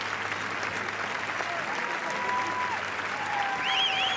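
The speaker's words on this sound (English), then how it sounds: "Bérénice Bejo applauding Michel Hazanavicius" Sustained applause on the red carpet at the Cannes Film Festival's 70th anniversary, a steady, dense wash of many hands clapping throughout, with faint whistles and tonal chirps rising above it near the end.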